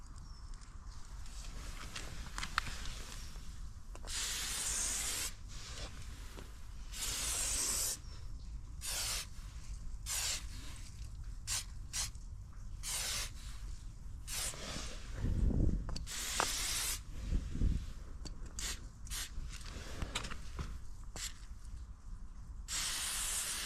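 A spray paint can lets out repeated hissing bursts while graffiti is painted, some short and some held for a second or two, loud and close with quieter pauses between.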